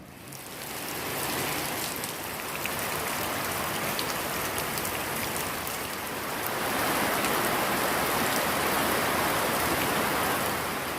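Rain falls outside an open workshop door onto the yard, a dense steady patter that swells slightly partway through and continues without pause.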